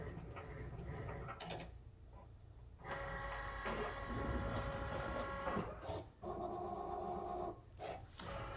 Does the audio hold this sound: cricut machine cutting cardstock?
yes